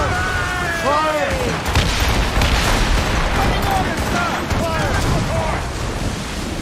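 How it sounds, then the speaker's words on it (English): Mortar fire and booming cannon blasts in the naval combat of the video game Assassin's Creed Rogue, loud rumbling explosions layered over continuous battle noise, with voices shouting over them. "They're firing mortars!"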